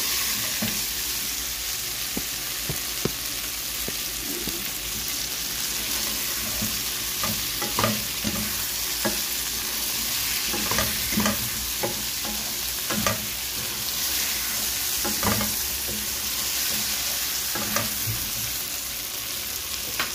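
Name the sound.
carrots, plantains and potatoes frying in a pan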